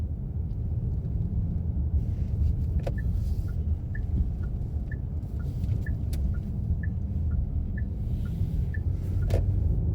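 A car drives along a road in the oncoming lane, its engine and tyres making a steady close rumble with a faint repeating ticking over it, no speech.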